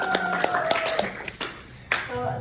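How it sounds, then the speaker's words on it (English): A small group at a Toastmasters club meeting claps briefly in sparse, uneven claps, with a voice talking over it. "Give a round of applause."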